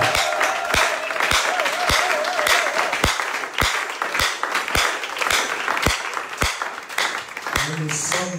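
A congregation applauds and calls out in acclamation during a church service, with steady crowd clapping, sharp low thumps falling at regular beats, and voices rising through the noise.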